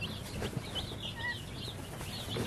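Several chickens clucking and chirping nearby in short bursts, fairly soft, with a few higher squawks mixed in.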